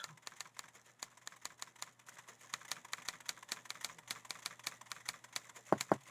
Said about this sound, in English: I hear typing. I hear some typing.